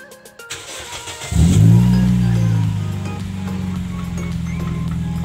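A car engine, just dosed with engine flush, cranks and catches about a second in, then settles into a steady, unrevved idle that stays close and even to the end.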